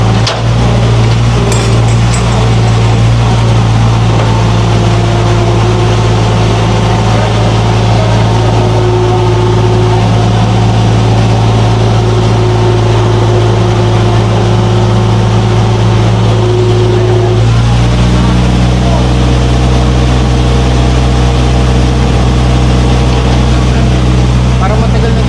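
A tow truck's engine runs steadily at idle for the whole stretch, a loud low rumble with a drop in pitch partway through, while people talk nearby.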